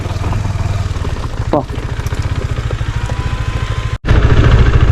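A motorcycle being ridden through forest on the Attapadi route, its engine chugging steadily and close, with a brief break near the end, while a voice talks over it.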